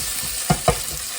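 Sweet peppers sizzle in a hot pan, with a constant frying hiss broken by two quick stirring scrapes close by.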